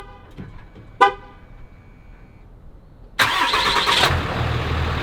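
A diesel vehicle's engine cranks and catches, a short honk first sounding, then the engine bursting into a loud, close, steady rumbling idle that holds to the end.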